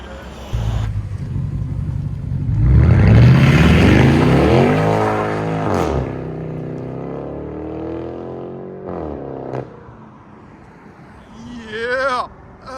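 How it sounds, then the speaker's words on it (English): A powerful race car engine builds to a loud roar and pulls away, its pitch climbing then fading into the distance, with a brief rev near the end. "Look at that sucker race car."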